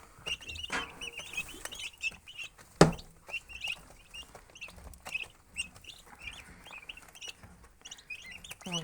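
Young turkeys pecking at feed indoors, with rapid soft pecks and taps against the feeder, a single sharp knock partway through, and frequent high chirps and peeps from the flock throughout.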